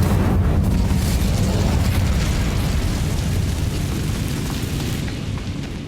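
The Incendio fire spell in Hogwarts Legacy lets out a loud, roaring burst of flame that rumbles without a break for several seconds and fades slowly toward the end.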